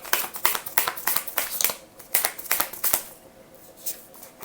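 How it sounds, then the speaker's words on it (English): Tarot cards are shuffled by hand at close range in a rapid run of crisp riffling slaps and flutters that fades out toward the end, with no talking. "This is why I like to shuffle live"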